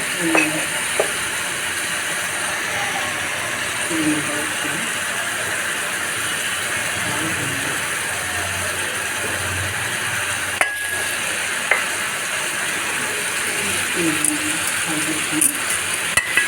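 Steady sizzling and crackle of spices frying in hot oil, continuous throughout with a few faint clinks, no voices.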